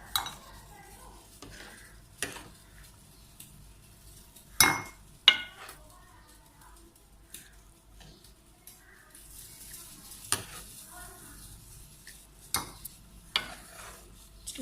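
Mutton and black chickpea curry stirred in a pot after resting on dum, with scattered sharp clinks and scrapes of a spoon against metal over a faint background hiss, close and quiet, no voices.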